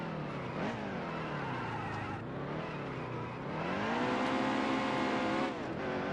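A race car engine in the NASCAR Heat 2 video game drones at high revs, rising and falling steadily and moderately loud, with no talking over it.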